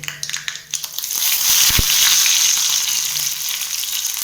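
Curry leaves drop into hot oil with popped mustard seeds for a groundnut chutney tempering: a few sharp crackles give way to a sudden loud, dense sizzle that holds steady and close.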